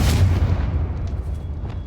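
Confringo fire-blast spell in Hogwarts Legacy bursts with a loud, heavy boom, its deep rumbling impact decaying over about two seconds with scattered crackling debris.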